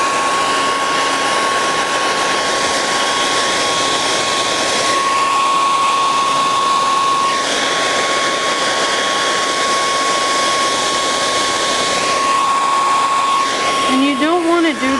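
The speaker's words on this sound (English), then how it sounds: "These hair dryers get awfully hot." A hot hair dryer blows steadily and loudly at close range, heat-sealing a stencil to an uneven surface, with a constant whine and a slight shift in tone near the end.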